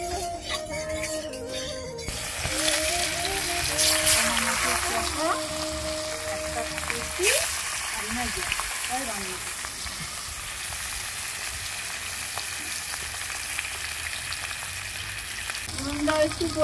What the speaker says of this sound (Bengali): তো 3 পিস যে মাছটা আমি ভাজবো, পটলটাও ভেজে নেব, আলুটাও ভেজে নেব।